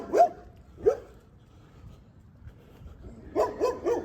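German Shepherd dogs barking, two separate barks and then a quick run of three or four, moderately near, with quiet pauses between and no talk.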